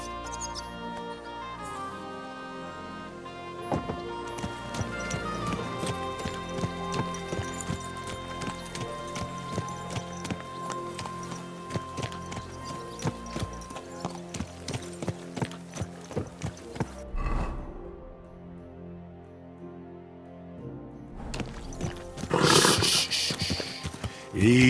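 Horse hooves clip-clop in a steady trotting rhythm within Kingdom Come: Deliverance 2, mixed under game music with harmonic layers, a voice speaking softly to the horse near the end.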